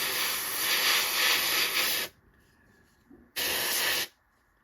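An airbrush running at about 25 psi sprays paint in a white finish onto an Arma Hobby 1/48 Sea Hurricane model aircraft, giving two steady, close hissing bursts, a long one and then a shorter one, separated by a quiet gap.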